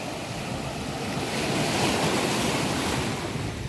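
Gentle sea waves wash steadily onto a beach at about seven in the morning, a continuous close rush of surf with some wind noise and no voices.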